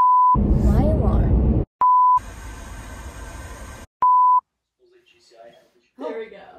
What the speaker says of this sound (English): My alarms need to stop going off.